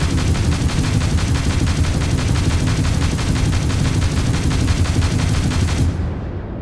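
Spaceship laser weapons blast in Starfield, a loud, rapid, evenly pulsing stream of shots that runs unbroken for about six seconds, then cuts off abruptly and leaves a faint fading tail.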